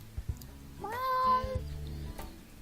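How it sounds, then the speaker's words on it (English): A pet cat meows from up in a tree in one long, drawn-out, rising-then-falling cry, clear and fairly close over low background noise. "Ollie, my cat is stuck in the tree and I can't get him down"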